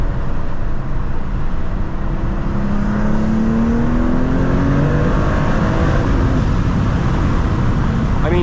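A BMW G87 M2 with about 780 wheel horsepower accelerates hard out of a turn, its engine note rising steadily through a long pull under constant road and wind roar.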